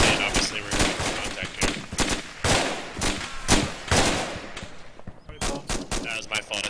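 Bursts of automatic gunfire and single rifle shots from an Arma 2 combat match in Takistan, dense and repeated throughout, with brief gaps between volleys.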